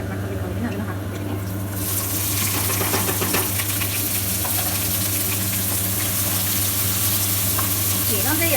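Onions and green chillies sizzle in a hot pan, a loud, continuous frying hiss with stirring clatter throughout and no talking.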